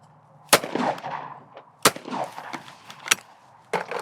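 Shotgun fired at a pair of crossing clay targets on a clay shooting stand. Sharp, loud reports come at spaced intervals, each followed by a short decaying echo, and there is no talking.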